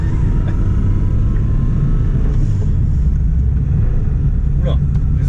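A 1980s Volkswagen Polo Mk1 drives along, its engine and road noise making a loud, steady low rumble inside the cabin, with voices talking over it.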